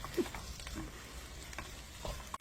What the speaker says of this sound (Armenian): Հիմա մի 5 րոպե այսպես սոխարածի հետ այս կարտոֆիլը պետք է, ինչ ասեմ, տապակենք